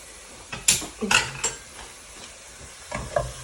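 Kala bhuna, a Bengali beef curry, poured into a hot pan of browned ingredients, with sharp clattering scrapes of a spoon against the pan over a low sizzle, a few loud stirring strokes early on and more toward the end.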